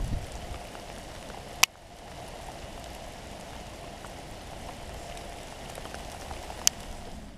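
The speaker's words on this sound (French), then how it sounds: "Une autre journée qui démarre sous la grêle." Steady dense pattering of hail on a surface outdoors during a big-game hunt, continuous and moderately loud, with two sharp isolated cracks of impact standing out.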